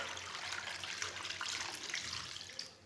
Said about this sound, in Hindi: 1 लीटर पानी डाल लेंगे।